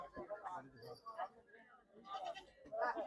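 A goat bleats a few times at close range at a goat market, mixed in with people talking nearby.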